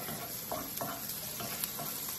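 Vegetables and minced garlic sizzle in olive oil as they are stirred in a pan, with soft repeated scraping strokes over a continuous quiet frying hiss.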